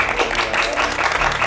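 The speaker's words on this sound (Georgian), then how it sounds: "მოდი, ტაში დავუკავთ" A group claps together in applause, a dense, steady patter of many hands that fills the whole moment at an even level with no voices standing out.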